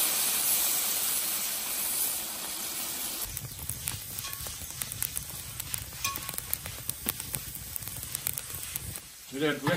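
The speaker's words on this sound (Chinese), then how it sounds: "要稍微给它加点水，烧焖个3到5分钟" Pork liver in an iron wok after a splash of water, a loud hissing burst that settles into a softer bubbling simmer with scattered clicks and spatula taps; a voice speaks briefly in the background.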